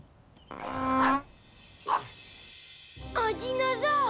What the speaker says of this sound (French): Doug, mais qu'est-ce qui te fait aboyer?